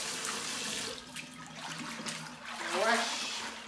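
Water runs from a tap while sweet potato leaves are washed in a sink, a soft steady splashing and trickling under faint background noise, with a brief clink or squeak near the end.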